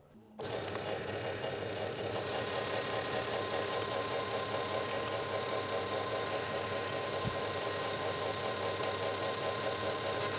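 A metal lathe turns down 4140 steel sucker-rod stock from 25 to 20 millimetres, giving a steady, continuous mechanical hum and rhythmic whirring that holds evenly throughout, with one brief knock partway through.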